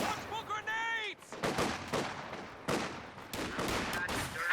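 Grenade explosions and rattling gunfire on a Company of Heroes 2 battlefield, with repeated sharp bangs and bursts in quick succession, loud and close, and a brief shouted voice at the start.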